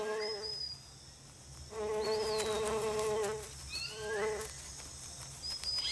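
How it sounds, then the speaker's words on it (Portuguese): Bees and other insects buzzing around flowering rainforest trees in the rainy season, a steady droning hum that swells and fades, with thin bird chirps and whistles in the background. "Seu néctar rico atrai abelhas e outros insetos."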